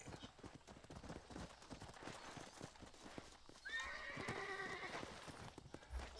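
In the Red Dead Redemption video game, a horse's hooves clip-clop in a quick rhythm, then a clear, loud neigh rises and falls near the end, with faint talk underneath.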